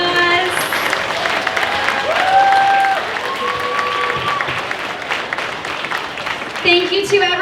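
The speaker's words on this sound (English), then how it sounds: "can we give them one more round of applause?" Applause from the audience at a fair queen and princess coronation ceremony, with steady clapping throughout. Voices and some tonal sounds mix in above it, and the clapping swells again near the end.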